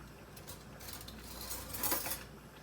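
Metal cooking utensils clink softly as one is picked up from a kitchen counter, a few faint light chinks with a slightly brighter clatter near the end, no talking.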